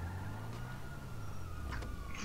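Police siren in the video game Grand Theft Auto Online, a faint wailing tone over steady engine rumble and game noise, continuous throughout.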